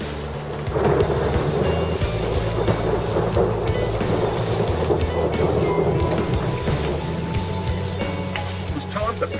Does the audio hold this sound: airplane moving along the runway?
no